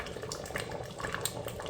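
Tap water runs steadily into a kitchen vessel while a meal is prepared, a continuous close hiss of flowing water with no talk over it.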